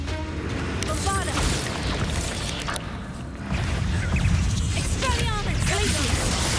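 Bombarda explosion spell blasts in a Hogwarts Legacy battle, heavy booming impacts over a dense low rumble of combat, with crashes and spell effects layered throughout and talk from a voice mixed in.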